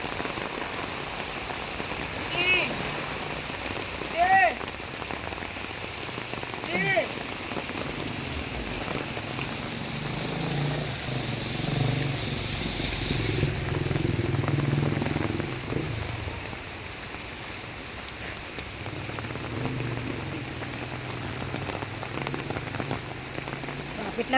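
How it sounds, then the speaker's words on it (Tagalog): Rain falls steadily on outdoor surfaces on an evening walk to a grocery store, a constant hiss with scattered drips and a low rumble, moderately loud throughout. "Ulan."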